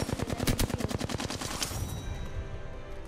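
Rapid automatic gunfire from an enemy firefight in Apex Legends, a fast burst of close, loud shots rattling for about a second and a half before trailing off into a fading echo.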